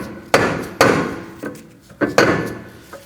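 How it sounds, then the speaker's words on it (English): Rubber mallet tapping a rear brake rotor on a 2011-2016 Kia Optima to loosen it from the hub: five or six sharp, close knocks spaced unevenly, with no talking. "I'm gonna use a mallet. We're gonna go ahead and tap around this area to get it loose."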